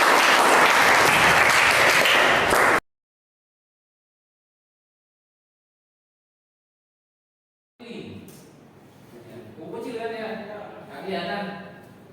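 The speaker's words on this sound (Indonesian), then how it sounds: "Tepuk tangan untuk teman kalian kelompok 3" Classmates in a teacher-training classroom lesson applaud a student presentation group. A loud burst of clapping breaks off abruptly, then after a silent gap a voice speaks.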